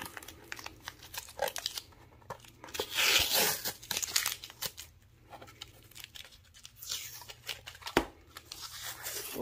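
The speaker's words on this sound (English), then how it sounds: "I will pull off my tape" Tape peels off an acrylic clipboard in several crackling, ripping pulls, with crinkles and small handling taps between strips, close and fairly loud.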